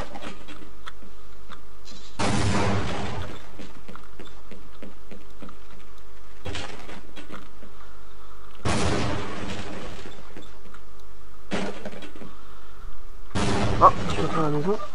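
Grenade explosions in the video game Half-Life 2: Episode Two, with three loud booming blasts at irregular intervals that ring out between quieter stretches of game ambience.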